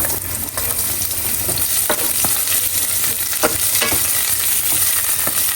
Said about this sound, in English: we're gonna go ahead and saute our onion